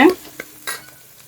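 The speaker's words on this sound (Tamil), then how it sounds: "போட்டு வதக்கணும் வெங்காயம் வதங்கிடுச்சு" Onions and green chillies sautéing in a pan for a Tamil crab curry, a brief hiss of frying with a couple of short stirring scrapes, close and fairly loud, no voices.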